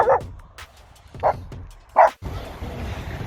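A dog gives three short, sharp barks spaced about a second apart, loud and close, followed by a rush of background noise.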